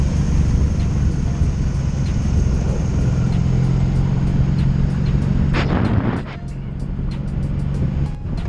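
A 2002 Honda Magna VF750C motorcycle engine idling steadily up close with a low, even rumble, with brief faint clicks and a short louder disturbance near the end.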